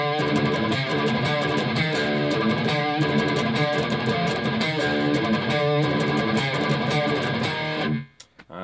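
A heavy, distorted electric guitar plays the midsection riff of a metal song, dense and steady at full tempo for about eight seconds before cutting off abruptly.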